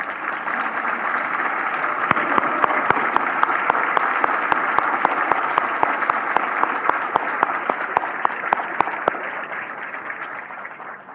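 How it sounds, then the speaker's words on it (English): Students standing at an adult and workforce education recognition ceremony receive sustained applause from the audience, a broad, loud wash of clapping with a few sharp, regularly spaced claps standing out near the microphone before it thins toward the end. "Please come on, stand up. You can get your claps."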